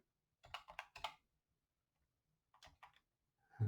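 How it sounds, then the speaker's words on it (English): Bursts of rapid key clicks from a computer keyboard while entering commands on a 6502 homebrew computer, two short flurries separated by quiet, close and crisp, ending in a louder thump. "I've already been typing things"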